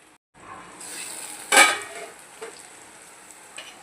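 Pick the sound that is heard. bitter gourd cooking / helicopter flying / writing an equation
bitter gourd cooking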